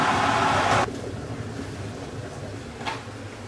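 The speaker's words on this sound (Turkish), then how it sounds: "Suyum kaynadı." Water in a kettle roars toward a boil as a loud rushing hiss, which cuts off abruptly under a second in and leaves a low, quieter rumble behind.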